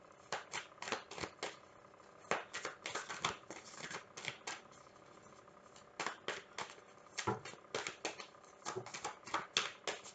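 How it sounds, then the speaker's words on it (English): Tarot or oracle cards are shuffled and drawn in quick, soft riffling bursts that come in irregular runs with short pauses between, close by and fairly quiet, with no speech. "Let's pull 3 more cards"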